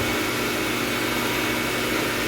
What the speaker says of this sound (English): And now I have the air compressor running and